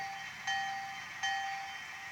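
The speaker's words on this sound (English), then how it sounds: "Bell." Two bright metallic bell strikes about three-quarters of a second apart from a Bachmann model locomotive sound decoder, each ringing briefly with a thin electronic tone over a faint steady hum.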